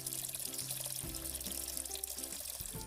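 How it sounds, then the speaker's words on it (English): Water pours and splashes steadily as it is drained from a pot of cooked pasta in a kitchen, a continuous gushing under low music. "drains the water"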